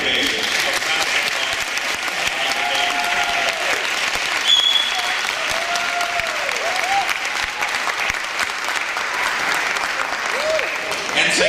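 A school audience applauds debaters at a debate event, with sustained, even clapping from a crowd throughout, some voices and cheers mixed into the steady wash of hands.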